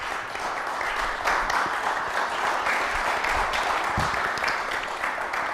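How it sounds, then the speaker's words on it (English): A panel-event audience gives a sustained round of applause for the business speakers, a steady dense wash of many hands clapping at moderate distance throughout. "So give them a round of applause if you would."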